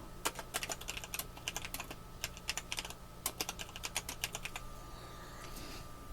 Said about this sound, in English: where you type in the actual message